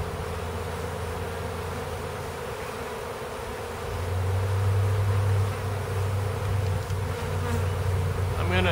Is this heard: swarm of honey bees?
yes